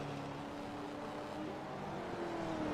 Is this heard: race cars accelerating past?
yes